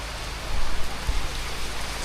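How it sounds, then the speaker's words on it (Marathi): Heavy monsoon rain falls in rural Konkan at rice-planting time, a dense, constant roar of drops with a low rumble swelling briefly near the middle. "एकदम भारी झाला पाऊस"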